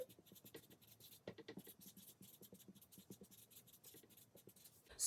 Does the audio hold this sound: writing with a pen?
yes